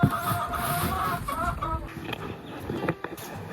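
Chickens cluck near a new coop on a small farm, giving a few short, fairly close calls over a busy background with faint voices present.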